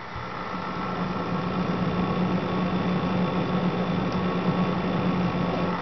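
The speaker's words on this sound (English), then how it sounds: "You can hear the pump." Pump of a Corsair H100i liquid CPU cooler running in a computer, a steady low hum with a faint whine, continuous and even throughout, close by with no talk.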